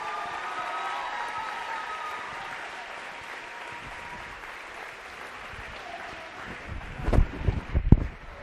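Audience applause at a water polo senior recognition, sustained clapping filling the space for several seconds, thinning out before a few louder close bumps near the end.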